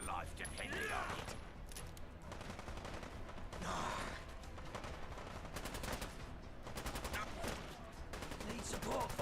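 Gunfire in the video game Fallout London, bursts of rapid shots and scattered single cracks crowding together, with people shouting and talking over the shooting.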